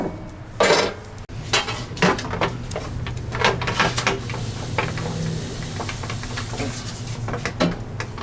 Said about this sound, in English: And stock pan finally comes off